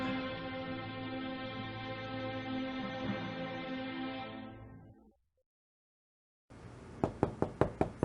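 Knocking at a door in the Agatha Christie: Evil under the Sun video game: a sustained musical tone fades into silence, then a series of about five crisp, sharp knocks follows, clear and close.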